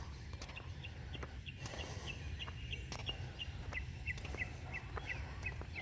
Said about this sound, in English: There's some birds down there now.